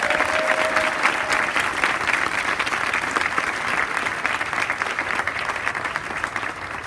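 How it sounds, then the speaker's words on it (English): A large crowd applauding loudly, steady dense clapping that holds throughout, with faint voices mixed in. "Let's give a round of applause to that."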